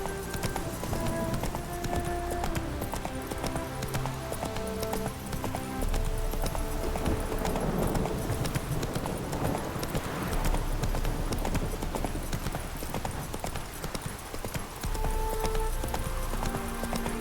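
Roach, a horse in the video game The Witcher, gallops with steady clip-clop hooves throughout, layered under dense game music and ambience, with an occasional whinny.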